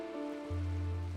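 Steady rain from a storm in Minecraft, heard as a continuous wash with a deeper rumbling layer that swells in halfway through the short stretch, fairly close and without any talk.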